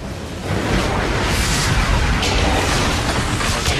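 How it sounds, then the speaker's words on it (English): A lightning strike during a stormy ship voyage in Assassin's Creed 3 booms loudly, followed by a heavy, sustained rumbling crash that rolls on for several seconds. "Convenient lightning strike."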